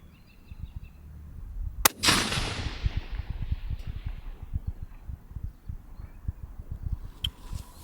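A single sharp rifle shot from a 22 Nosler firing an 80gr ELDM bullet at a target 1,030 yards away, loud and close, followed by a long decaying rumble and echo across open ground.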